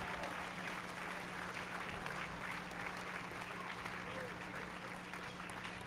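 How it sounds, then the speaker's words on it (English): Steady audience applause at an evening tent revival meeting in Winston-Salem fills the clip, a dense continuous patter from a large crowd, with a preacher's voice faintly under it. "I think you better clap louder than that."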